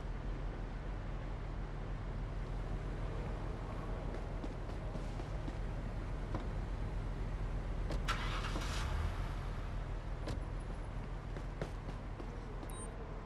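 A patrol car engine in the Police Simulator video game idles with a low, steady rumble, faint and constant, with a few small clicks and a short mechanical rush partway through.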